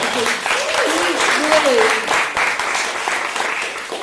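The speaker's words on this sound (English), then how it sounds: "Let's give him another round of applause" A crowd claps steadily and fairly close, the applause continuing throughout while a voice speaks over it briefly.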